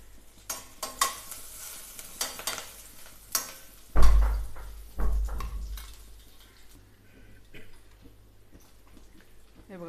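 Smashed garlic cloves hit hot oil in a pan for a Marathi taklyachya leaf bhaji, crackling and sizzling in bursts amid close stirring and utensil clatter, then settling to a quieter fry.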